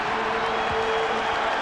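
Boston Garden crowd at a 1994 Mavericks–Celtics basketball game, a dense steady roar of cheering and applause filling the arena, continuous and loud throughout with no distinct voice standing out.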